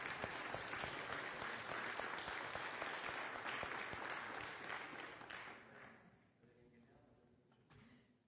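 A church congregation applauds during a morning service, dense steady clapping that fills the room for several seconds and then fades to a few scattered claps.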